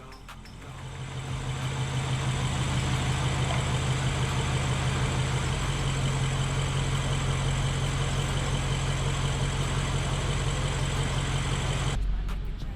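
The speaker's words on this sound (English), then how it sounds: "The engine is running rough a little bit because of a few bad connections, but I got that sorted and here it run now." A rebuilt BMW 750i engine idles steadily after a fuel-connection fault was fixed, a loud, close, continuous hum that builds up in the first two seconds, holds evenly, then cuts off near the end.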